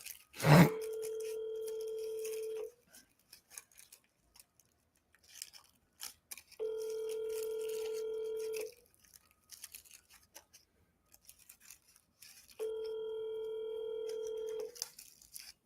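A telephone dial tone sounds in three steady, moderately loud bursts of about two seconds each, separated by quiet gaps, while a call is being placed; a brief click comes before the first.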